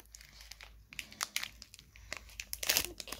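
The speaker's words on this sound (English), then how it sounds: "Now I'm going to open Sun and Moon Burning Shadows." A Pokemon Sun and Moon Burning Shadows booster pack is torn open, with close, quiet crinkling and tearing foil in irregular bursts, louder toward the end.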